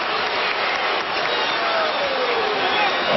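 Basketball arena crowd at Game 4 of the 2007 NBA Finals, San Antonio vs Cleveland, giving off a steady loud roar of shouting and clapping as fans call for a foul.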